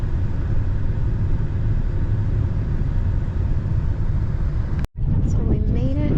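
A Brinkley RV rolls along the road through Mesa Verde park, giving a steady, loud engine and tire rumble with road noise that holds for about five seconds before a sudden cut to quieter sound.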